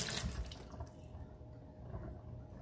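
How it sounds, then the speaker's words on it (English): Tap water runs softly over fresh produce being rinsed in a sink, a faint, continuous splash with small fluctuations as the item shifts under the stream. "I'm just going to rinse it off underwater."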